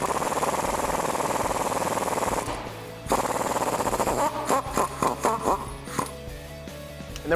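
Impact wrench or power ratchet working the nuts off a sway bar end link on a Silverado or Sierra front suspension, a steady loud buzz that breaks off, then choppy rattling bursts, close by.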